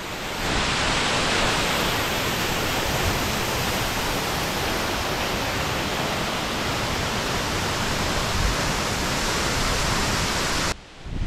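Gergeti waterfall in Georgia pours as a steady, dense roar of falling water, loud and unbroken throughout, with no voices and only a brief dip near the end.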